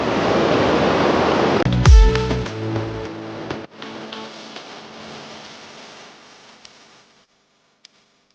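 Sea waves on the rocky shore at Vijlibaru near Mahuva surge in with a loud rushing wash, crash once, then recede and fade to near silence.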